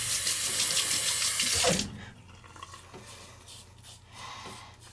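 Water from a tap runs hard over a Gillette razor to rinse it, a loud steady gush for almost two seconds that then cuts off, followed by faint drips and handling noises.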